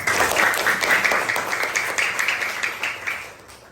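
A group of listeners at a school coaching session breaks into lively clapping, fairly close and loud, with a choppy rhythm that tapers off near the end.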